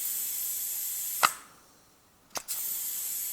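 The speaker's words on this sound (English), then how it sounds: "now I add again air in there" An air hose nozzle inflates a Lexus LS car tire in two short sharp hisses, a single burst then a quick double burst after a pause, set against a steady background hiss.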